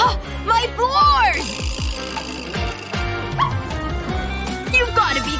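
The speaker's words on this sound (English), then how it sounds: "Get that dog out of here!" Small dog barking, yipping and whimpering in several quick bursts at a party in a home, close and fairly loud, mixed with excited voices and a busy background.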